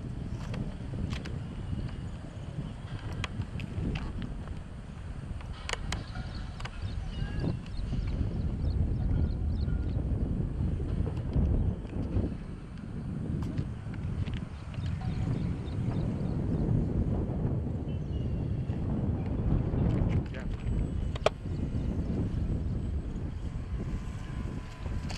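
Wind gusts blow outdoors during a model glider flight, a steady low buffeting roar on the microphone that swells and eases over the whole stretch, with faint ticks and a brief click.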